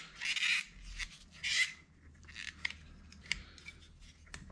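Scissors or cutters snip through a reinforced brake vacuum pump hose on a Jeep JK, making two rasping cuts followed by several short crunching clicks, close and quiet.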